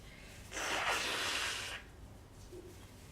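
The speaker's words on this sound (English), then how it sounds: "I gotta sneeze." A single sudden sneeze bursts out, a short breathy blast lasting about a second, then quiet.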